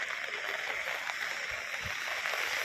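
A river in flood after heavy rain, flowing full to its banks near a village, a steady broad rushing of water with a few low splashing thumps, continuous and fairly close.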